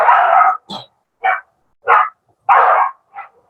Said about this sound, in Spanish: Esos pinches perros no sé qué les pasa, pero a esta hora siempre ladran.